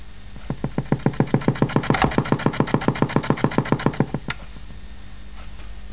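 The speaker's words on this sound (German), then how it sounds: "dann hört man also das Wobbelsignal." Sweep signal received on a medium-wave radio set to the oscilloscope's frequency-modulated wobble output: a steady train of sharp, evenly spaced buzzing pulses, about five per second, that stops abruptly, leaving faint hiss.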